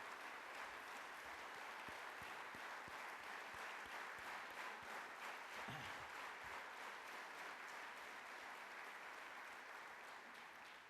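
A large convention hall audience at the NAR-INDIA annual convention curtain raiser gives sustained applause for the Piramal Finance team, a continuous dense roar of clapping with a few nearer claps, fading slightly at the end.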